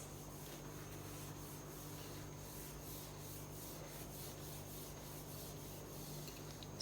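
Writing is rubbed off a board with a steady, faint scrubbing rub that continues evenly without pause.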